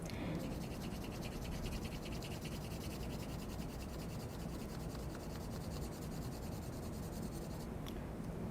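A pencil sketches and shades lightly on paper for a spring art project, giving a soft continuous scratching rub that runs steadily throughout, quiet and close, with no talking.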